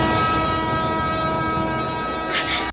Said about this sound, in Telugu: అదిగో రైలు వస్తుంది.